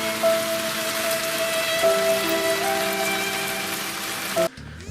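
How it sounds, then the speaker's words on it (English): Rain falls steadily outdoors in British weather, a close, even patter on surfaces lasting several seconds before cutting off abruptly, with faint tonal hums running underneath. "it started to rain."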